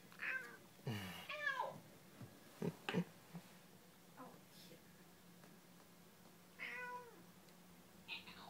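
A cat playing with fresh catnip meows several times in short, close, wavering cries, with soft indoor voices speaking between them.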